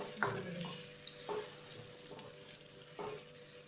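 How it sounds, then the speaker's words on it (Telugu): Telangana-style chicken fry is turned in a pan, with a soft frying sizzle and several scraping stirs spaced about a second apart, fairly quiet and without talk. "చికెన్ ఫ్రైని తిప్పుకుందాం."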